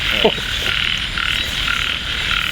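Frogs croak in light rain at night during a frog hunt in rural Ubon Ratchathani, Thailand; a steady high chorus of calls runs throughout, with one brief louder croak near the start and no talk.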